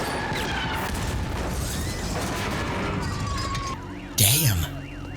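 A rocket launcher fires in a military action scene, a sudden loud blast near the end rising above a dense bed of mechanical noise, music and scene sounds.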